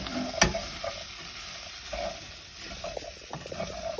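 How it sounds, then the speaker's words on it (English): Food is stirred in a hot cooking pan with salt added, a soft steady sizzle under scraping and clinking spoon strokes, close and fairly quiet with no talk. "And give that a stir."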